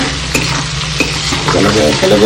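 Duck meat frying in a pan and being stirred, a loud close sizzle with sharp scraping clatters of the spoon and a bubbling crackle that builds toward the end.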